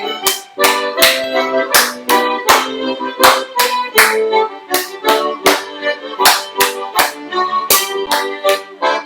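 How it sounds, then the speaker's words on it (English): Music plays throughout with rhythmic claps during Morris dancing, steady and loud, with sharp percussive hits falling repeatedly on the beat. "Lots of clapping they would do too."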